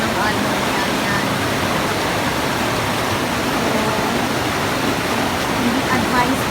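Strong sea waves surge and crash against the Malingin rocks on the Cebu coast, a thick, continuous roar of rushing surf heard close and loud throughout.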